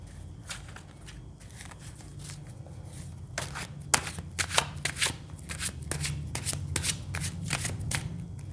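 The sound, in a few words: shuffling and drawing tarot cards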